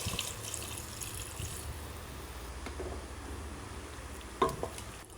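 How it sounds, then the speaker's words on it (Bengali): Water is poured into a pan of potato and cauliflower curry, giving a steady, loud rushing and sizzling wash with a sharper splash near the end. "কষানো হয়ে গেলে এবার দিয়ে দেব জল"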